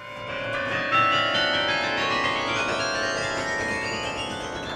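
Carillon bells ring out at the Catalan government headquarters during a test, overlapping tones sustaining and shimmering as a bright descending run of chimes, loud and resonant with no voices.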